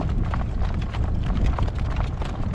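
A hitched horse's hooves clop steadily along a road during a gale-force windstorm, close and fairly loud, the irregular thuds mixed with rough rumbling and rattling throughout.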